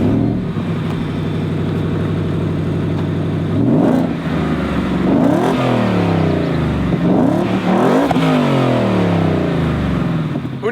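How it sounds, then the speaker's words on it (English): A Ford F-150 Raptor R fitted with an SMB JLT cold air intake idles, then is revved several times in quick sharp bursts, each one rising and falling loudly and close by, with no talking. "Now we're gonna check out the sound on both the Raptor R and the Ranger Raptor."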